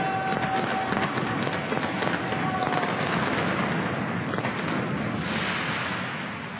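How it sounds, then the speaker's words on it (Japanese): Victory fireworks after a Hokkaido Nippon-Ham Fighters home baseball win in Sapporo, heard as a dense, continuous crackle and rumble of bursts that carries on throughout and thins slightly near the end. "勝利の花火が上がりました。"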